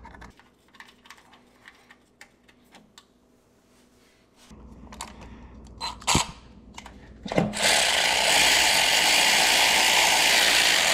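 Hand ratchet snugging starter bolts on a 2003 Lincoln Town Car, Panther chassis: faint scattered clicks at first, then a louder steady ratcheting burst near the end, close by, with no talk.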